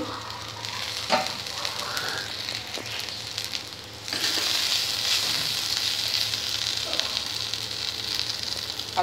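Potato fry for piyajkali aloo bhaja cooking covered over a low flame, giving a steady soft sizzle that brightens and grows louder partway through, with occasional faint clicks and no talk.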